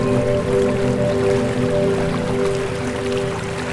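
A small monsoon waterfall at Bhatwadi near Mumbai pours steadily nearby, a continuous rushing and dripping of water with a soft tonal hum running under it and no voices.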